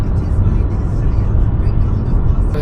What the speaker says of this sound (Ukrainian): зараз їду на СТО к Стасу